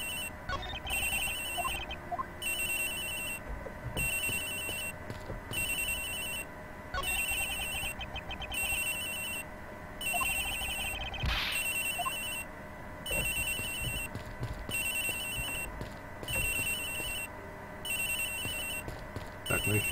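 A telephone rings in the video game Edgeworth Investigations, with repeated electronic bursts in a steady on-off rhythm over low background music and no speech.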